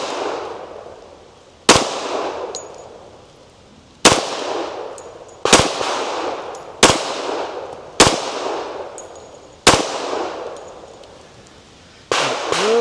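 Gunshots from a Tisas Raider 1911 pistol at an outdoor shooting range while zeroing in a mounted optic: seven sharp, loud cracks spaced one to two seconds apart, each followed by a fading echoing tail, with no talking.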